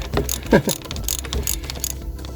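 A ratchet undoing a bolt on a London LTI TX4 Euro6 black cab during a service, heard as a few loud, close clicks and metallic turns in a short, uneven burst.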